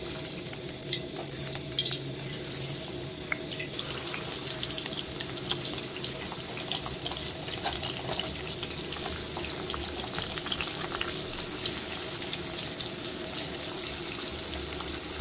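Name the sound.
shing fish frying with turmeric and salt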